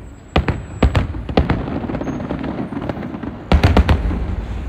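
Chinese New Year fireworks bursting outdoors at a crowded street celebration, a series of sharp booms in two clusters over a steady crowd rumble, fairly close and loud.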